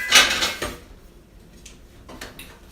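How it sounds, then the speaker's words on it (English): Noodles stirred in a cooking pot with a utensil, giving a brief burst of clattering metal scraping, a lull, then a second short scrape, all close up and without talk. "I'm gonna go over here to these noodles and I'm gonna stir them so they won't stick"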